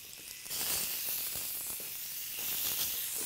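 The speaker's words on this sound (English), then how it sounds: "hot grill pan, pop them in there a couple minutes each side." Herb-crusted lamb chops rubbed with olive oil sizzle steadily in a hot grill pan, a continuous close hiss with scattered crackles and pops that swells after the first half second.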